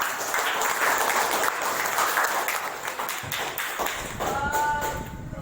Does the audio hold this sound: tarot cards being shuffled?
no